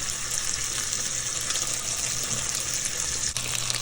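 Potatoes are washed under running water, a steady close gush of a tap flowing without pause.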